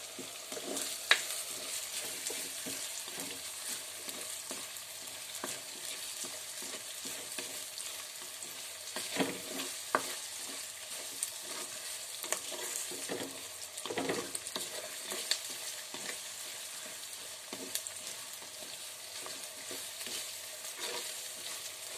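Soya chunks fry in a pan, giving off a steady sizzle with scattered scraping stir strokes and small crackles throughout, with no voices.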